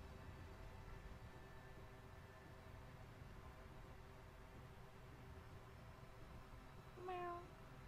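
A cat meows once near the end in the video game Murdered: Soul Suspect, a short rising call over a steady ambient hum.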